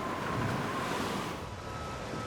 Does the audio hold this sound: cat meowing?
no